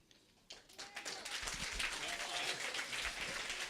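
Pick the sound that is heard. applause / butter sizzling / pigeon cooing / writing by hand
applause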